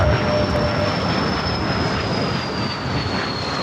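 A jet airliner takes off from runway 25 right at LAX, its engine roar a steady, loud, broadband rush that holds without a break throughout, with a faint whine sliding slowly downward above it.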